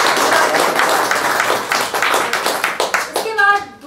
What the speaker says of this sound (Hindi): तो जोरदार तालियों से स्वागत करें।